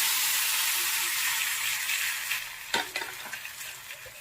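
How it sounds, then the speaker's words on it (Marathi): Hot tadka poured into dal: a steady broadband hiss, then a sudden sharp burst of sizzling with crackling spits that gradually settles, close and fairly loud, with no voices. "आता मी हा तडका डाळीमध्ये आपल्या टाकणार आहे."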